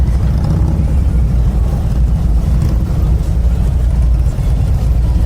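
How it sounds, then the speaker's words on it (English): A group of Harley motorcycles rumbling along a busy road, a steady deep engine drone holding loud and close throughout without a break. "listening to a group of Harley bikes coming toward you with that rumble"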